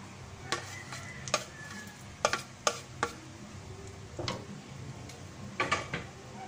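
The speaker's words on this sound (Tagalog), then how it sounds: "halo ko lang po ng ihahalo para matunaw yung cheese" Spicy creamy bacon carbonara is stirred as cheese melts into it, with soft bubbling under a series of distinct utensil clicks and taps against the pan, spaced irregularly.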